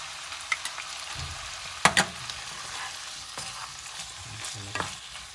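Thai beef with chilli and basil frying after sugar syrup goes in: a steady sizzle broken by sharp scraping and clanking stirs of a spatula in the pan, close and moderately loud.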